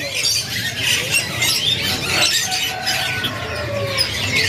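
Asian pied starlings at a bird market kiosk give harsh, squawking calls that repeat irregularly over a busy, noisy market background.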